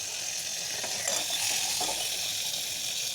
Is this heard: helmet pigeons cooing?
no